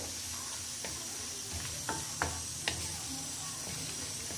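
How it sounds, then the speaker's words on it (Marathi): Garlic-ginger paste sautéing with okra in oil for a bhindi masala curry: a soft steady sizzle broken by a few sharp spatula scrapes and clicks against the pan, close and without talk. "आणि याला सुद्धा 1 मिनिट परतून घ्यायचं"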